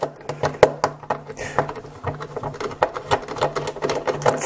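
A stubby Phillips screwdriver works self-tapping screws out of the plastic case of a Nitecore D2 charger, giving close, quick repeated clicks and ratcheting ticks in an uneven rhythm, with no talking.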